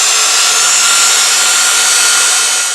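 A wood lathe spins a wooden urn at slow speed, giving off a loud, steady, bright whirring hum with no pauses.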